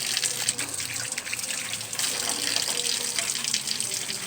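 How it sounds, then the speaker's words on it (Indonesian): Water runs steadily from an opened tap onto hands, a close, continuous splashing gush with no talk. "buka keran air dan basahi kedua tangan Anda"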